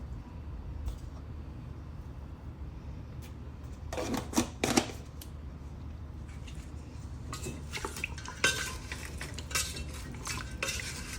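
Mutton being mixed with ginger garlic paste and salt in a metal vessel, a close spoon scraping and clinking in irregular bursts over a steady low background hum.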